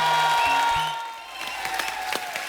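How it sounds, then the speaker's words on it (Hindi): A studio audience on The Kapil Sharma Show bursts into applause, dense clapping that fades briefly then picks back up with scattered claps, mixed with a tonal music sting at the start. "अरे बहुत कम तालियां, ज्यादा तालियां चाहिए आज"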